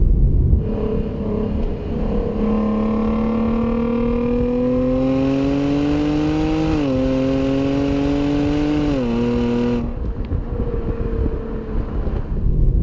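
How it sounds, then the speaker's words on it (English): From inside the cabin, a 2016 Jaguar XE S with a 250 kW supercharged V6 rises in pitch under acceleration, its raspy engine note climbing steadily with a couple of brief shift dips before easing off. "the V6 has got a nice little rasp to it from inside the cabin"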